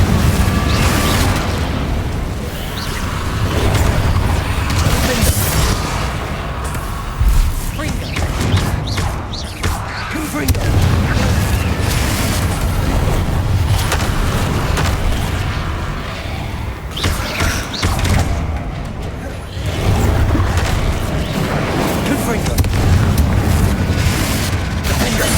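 Repeated Confringo spell explosions in a video game, booming blasts and crashing bursts recurring throughout amid constant loud game noise, with a voice occasionally calling out spell names.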